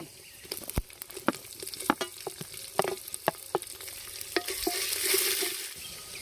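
Green chillies frying in oil in a pan on a wood-fired stove, with sharp scattered pops and spattering crackles over a soft sizzle that swells toward the end.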